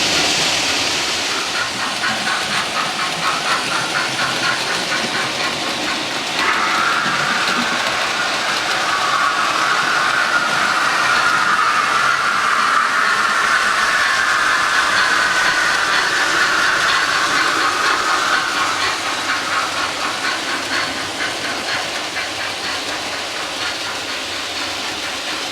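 An old model railway locomotive runs steadily on its track, giving a continuous whirring hiss with a fine rapid rattle that swells in the middle and then eases, with no voices.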